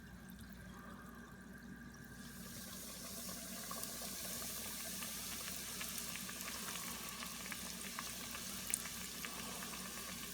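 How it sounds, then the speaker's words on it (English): Southern-style chicken drops into hot oil and fries with a dense, bubbling sizzle that swells after a quieter opening and holds steady and close, with scattered crackles throughout. "we're going to go over here and put it in the hot oil"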